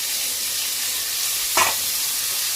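Onions fry in a pan with ginger, cumin and garlic paste and tomato paste, sizzling steadily and close. A short clatter from stirring or adding onions cuts in partway through.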